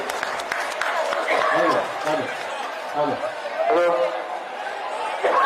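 Crowd applause rises at a district party conference in Kishoreganj, Bangladesh, welcoming a guest onto the stage, a steady wash of clapping mixed with chatter and voices throughout.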